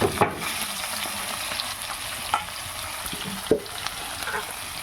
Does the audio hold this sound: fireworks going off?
no